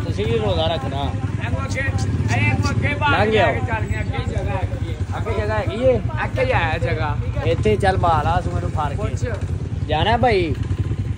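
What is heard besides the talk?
motorcycle engine started and running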